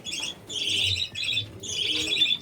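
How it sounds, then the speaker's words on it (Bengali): Clear wing budgerigars and a newly hatched chick chirping, close and loud in repeated bursts of bright twittering, with short pauses between them. "এটা একটা ক্লিয়ার উইং এর বাচ্চা বেরিয়েছে"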